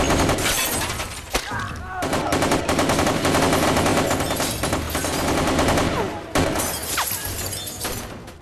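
Dense rapid gunfire from a bank robbery shootout between robbers and police, with sustained bursts and shattering crashes that fill the clip loudly and continuously, broken by a few brief pauses.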